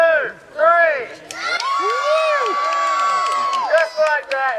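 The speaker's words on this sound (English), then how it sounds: "I want everybody to cheer as loud as they can" A large crowd of children and adults at a pig race cheers and whoops loudly on cue, a rising swell of shouting voices that holds steady for several seconds before breaking into scattered yells.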